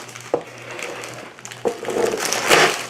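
Ginger snap cookies smashed inside a plastic bag in a home kitchen, a few sharp crunching impacts followed by crackling crumbling and plastic rustle, close and fairly loud, with a low steady hum underneath.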